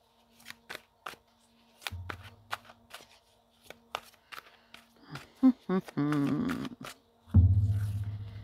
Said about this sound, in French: on va passer à l'oracle des secrets